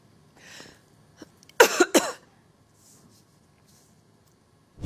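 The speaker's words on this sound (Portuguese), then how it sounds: "ela começou a tossir muito, como se estivesse sendo sufocada pelos próprios gases" A woman coughs hard, two loud harsh bursts close together, preceded by a faint throat sound and breath, in an otherwise quiet room.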